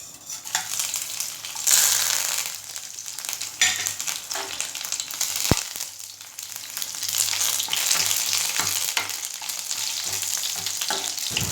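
Curry leaves, dried red chilies, mustard seeds, cumin, urad and chana dal with garlic crackle and sizzle in hot oil as a tempering, loud, with spoon stirring and sharp pops throughout, no talk.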